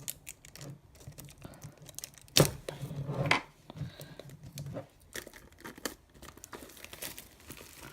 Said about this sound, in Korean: 뜯어볼게요.